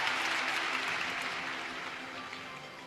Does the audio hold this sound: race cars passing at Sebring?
no